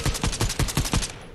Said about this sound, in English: All right, I'm missing every shot.